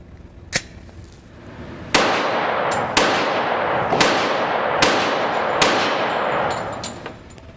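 Gunshots from a firearm loaded with Glow ammunition ring out at a firing range: about six sharp, loud reports at irregular intervals, each trailed by a long reverberant decay, with a fainter pop at the start.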